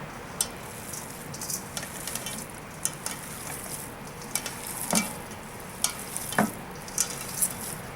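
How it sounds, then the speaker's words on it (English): Raw ground beef is mixed with A1 steak sauce by hand, giving soft squelching and wet smacking sounds in an irregular rhythm, close and fairly quiet, with no talking. "I'm going to mix it together until everything is well combined"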